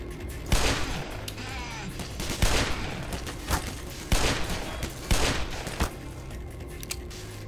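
Bursts of gunfire in the video game Black Mesa crack out in quick volleys, several loud clusters of shots spaced across the span over a low game backdrop.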